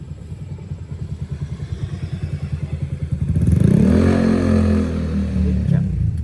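A motorcycle engine chugs with a rapid rhythmic beat, then swells louder and revs as it draws near and passes close by.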